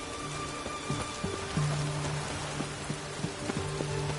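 Steady rain in a video game patters across a broad hiss, with a faint low hum and occasional soft knocks and tones underneath; no voices.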